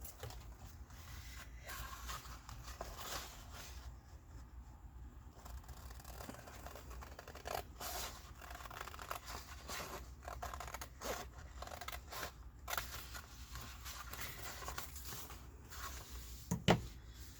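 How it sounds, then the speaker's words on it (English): Scissors cutting through folder material along a marked line, a series of close, crisp snips and paper scrapes at an irregular pace in a quiet room. "I'm just going to cut right down this line here."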